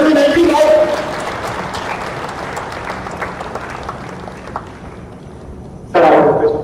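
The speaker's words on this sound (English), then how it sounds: "Can I bring down the applause, please?" Student audience applause, a thick burst of clapping that gradually thins and fades over several seconds, with voices at the start and a sudden loud voice cutting in near the end.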